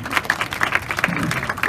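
An audience at a hypnosis show in a Playa Blanca resort applauding, a brief dense burst of clapping from a crowd of mixed hands, fairly loud and close, lasting under two seconds.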